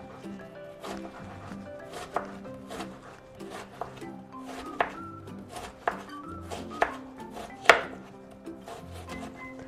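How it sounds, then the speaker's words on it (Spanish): Half an onion is diced into small cubes on a board, with steady knife chops landing roughly every half second, some sharper and louder, over faint background kitchen sound and no talking. "vamos a partir la cebolla en cuadritos"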